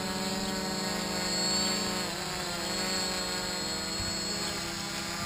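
A HoverThings HT-FPV multirotor drone with NAZA M GPS flies over a park, giving a steady, loud, continuous motor and propeller drone with a fairly stable pitch throughout.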